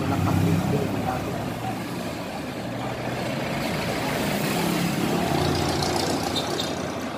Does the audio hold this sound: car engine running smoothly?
yes